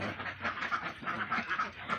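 Ducks on a farm quack in the morning, with a sick duck among them now walking again; a dense, steady run of overlapping quacks at close to middle distance.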